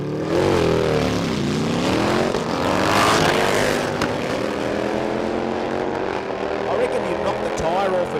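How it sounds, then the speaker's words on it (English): Nitrous and turbocharged Harley V-twin drag racing motorcycles launch at Warwick Dragway in Australia. Their engines snarl and rise in pitch down the strip under steady commentator talk, loud at first and then fading slightly. "Watch this, nitrous versus turbo V-twins."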